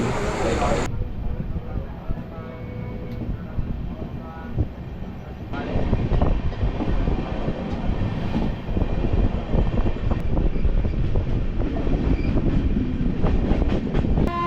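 An express train rumbles past loudly and steadily near Walajah Road station in Tamil Nadu, with a continuous roar and rattling of wagons that swells midway and holds.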